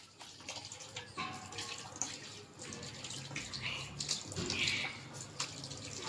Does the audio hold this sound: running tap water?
yes